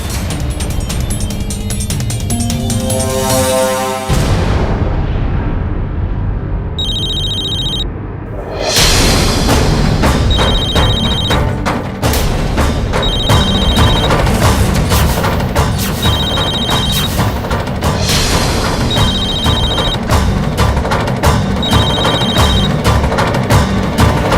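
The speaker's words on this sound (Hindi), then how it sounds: "ये लो, मोंटी का फोन तो मेरी जेब में पड़ा है।" A mobile phone ringtone plays loudly over busy music, its bright repeating tone pattern chiming at regular intervals for several cycles.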